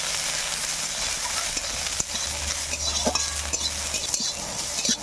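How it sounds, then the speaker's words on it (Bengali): Cashews and raisins crackle in hot ghee in a wok while a spoon stirs them, a close sizzling hiss broken by scraping and occasional clinks against the pan. "কাজু কিশমিশগুলো ভাজা ভাজা হয়ে গেছে"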